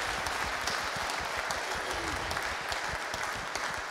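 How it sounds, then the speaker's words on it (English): A congregation at a Sunday church service claps steadily in a dense, even round of applause, moderately loud and continuous throughout with no speech over it. "a round of applause for Matthew, please."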